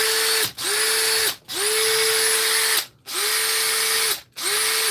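A repaired Makita power tool motor whirs in short bursts, spinning up with a high whine and cutting off four or five times in a quick on-off rhythm, close and loud.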